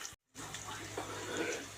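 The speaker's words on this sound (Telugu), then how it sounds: "చూడండి, నేను ఒక చిన్న గ్లాస్ వాటర్ పోసుకున్నాను." A small glass of water poured into a pot of mutton, a soft steady stream of liquid after a brief silence, fairly faint and close.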